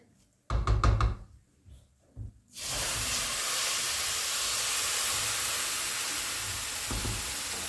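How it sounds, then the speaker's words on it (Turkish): Milk pours into a hot pan of roasted semolina and walnuts for Turkish milk halva, bursting into a loud, steady hiss and sizzle after a few clattering knocks of the pan. "Sütümüzü de döküyorum şimdi."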